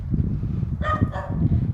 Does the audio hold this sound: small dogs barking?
yes